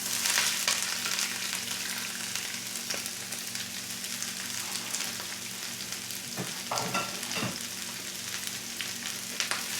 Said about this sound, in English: I've got a heated pan here too, and we're gonna go ahead and get our vegetables in there